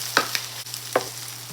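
Thin beef slices for Mongolian beef sear in a hot pan, a quiet sizzle punctuated by a few sharp scraping and stirring strokes as the meat is turned.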